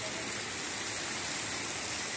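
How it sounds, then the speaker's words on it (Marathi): A small, thin waterfall streams down beside a footpath leading to the Ganpati Gadad caves, giving a steady broadband rush of falling water that stays close and even throughout, with no talk over it. "इथे हा बारीक धबधबा वाहतोय"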